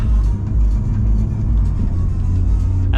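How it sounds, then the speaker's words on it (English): A car fitted with a new Valvetronic exhaust rumbles loudly and steadily up close, a deep, continuous engine drone with slight swells in revving. "we got some sound from the exhaust"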